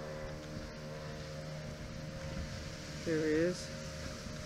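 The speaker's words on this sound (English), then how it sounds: "This is one of the Jamaica patrol boats." A Jamaican patrol boat's engine drones steadily in the background while someone speaks briefly, with a low hum swelling a bit louder near the end.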